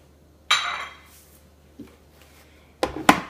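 Cold, unsalted cubed butter drops into a food processor bowl for cheddar buttermilk biscuits, giving a quick clunk, a faint tap, then a pair of louder clattering knocks close by, with quiet gaps between.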